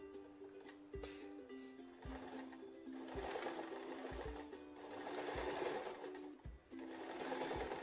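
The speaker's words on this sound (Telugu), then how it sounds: "ఇలా వారకి ఎడ్జ్కి కుట్టుకోవాలి." A sewing machine stitches along the edge of an old saree being sewn into a box-pleated full-flare dress, running in a steady rapid whir with a few short pauses.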